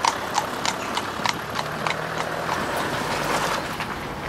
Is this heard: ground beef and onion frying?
no